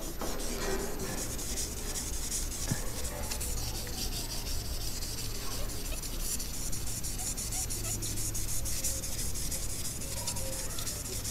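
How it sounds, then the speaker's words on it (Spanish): Fine 2000-grit silicon carbide sandpaper rubbed gently over a metal plate for engraving, a soft continuous scratchy hiss with little pause. "Con una lijita muy fina de grano 2000 de carburo de silicio vamos a ir pasando muy suavemente por la hoja."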